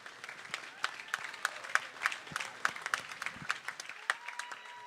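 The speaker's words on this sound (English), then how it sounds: "Let's give a round of applause to our seniors." Audience applause for senior wrestlers at a high school wrestling event, Evansville versus Jefferson and Clinton, steady clapping across the gym with scattered crowd noise, moderately distant and continuous.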